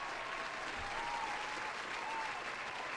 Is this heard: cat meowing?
no